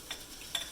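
Liquid dye being stirred into melted candle wax for homemade peppermint candles, two faint, brief scraping clicks of the stirrer against the container over a quiet hiss.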